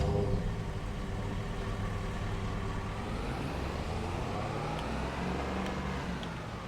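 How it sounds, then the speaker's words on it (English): A pickup truck driving in Farming Simulator 22, its engine a steady low drone with a slight rise in revs, continuous and fairly quiet throughout. "so I'm going to go ahead and grab the pickup truck."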